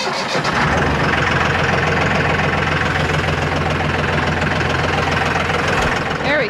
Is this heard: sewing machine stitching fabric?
no